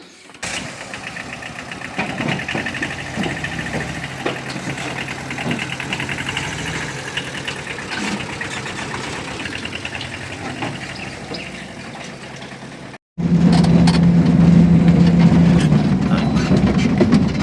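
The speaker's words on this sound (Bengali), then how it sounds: "ভাই স্টার্ট করো গাড়ি" A vehicle engine runs with a steady, rough rumble for several seconds, cuts out briefly, then starts again louder and idles with a heavy low drone, close by, with people talking faintly underneath.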